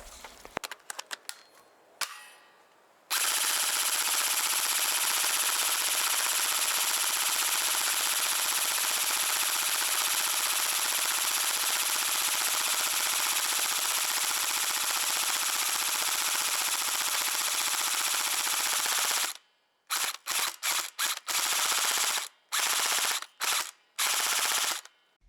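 An MP5 gel blaster toy gun firing gel balls on full auto: a few quick shots, then one long sustained buzzing burst of rapid fire, followed by several short choppy bursts, loud and close.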